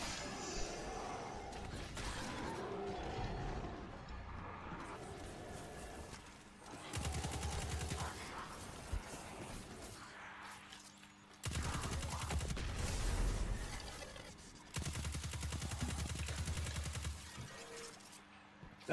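Bursts of rapid automatic fire from a turret in the video game Destiny 2, several sustained volleys separated by short pauses, with game effects in the background.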